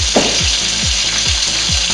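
Calamari frying in a pan, a loud, dense, continuous sizzle close by, with faint repeated scraping or stirring underneath.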